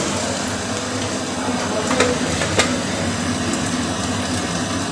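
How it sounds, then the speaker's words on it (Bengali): Prawns frying in a pan make a steady, even sizzle that holds throughout, with a couple of faint clinks of utensils against the pan near the middle. "চিংড়ি কটা ভেজে নিই আগে"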